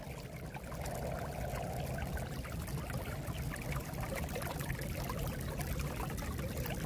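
Water discharges steadily from a drain leach line during a thaw. The rushing flow runs continuously and evenly at moderate loudness, with no voices.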